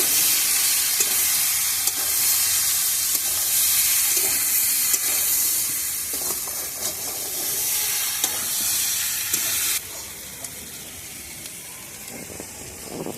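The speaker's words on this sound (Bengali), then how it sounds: "এবার আমি আলুগুলোকে দিয়ে দিচ্ছি, আলুটা দিয়ে দিয়েছি। এবার ভালো করে কষিয়ে নেব।" Potatoes frying in a pan over a wood fire on a rooftop garden, a loud continuous sizzle and hiss with scraping stirs and occasional clanks, dropping slightly quieter near the end.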